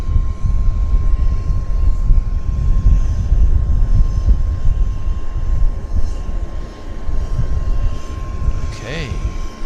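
A Korean Air jet airliner takes off at maximum gross weight, its engines roaring loud and steady throughout with a continuous rumble, while people talk over it at an airport.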